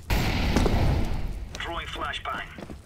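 A thrown fire grenade in the shooter game CS:GO bursts into a loud, close roaring whoosh of flames that fades slowly while a person talks over it.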